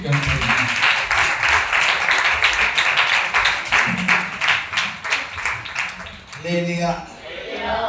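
An audience at a church gathering claps to welcome a pastor, a dense and sustained round of applause that thins near the end as a voice comes in.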